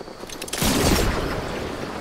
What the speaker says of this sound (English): Oh, the fireworks, the fireworks.